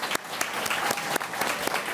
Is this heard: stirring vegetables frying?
no